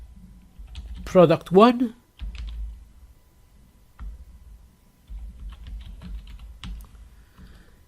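Computer keyboard typing while setting up a WordPress and WooCommerce demo, with bursts of close, crisp key clicks spread across the clip, separated by a brief stretch where a person talks.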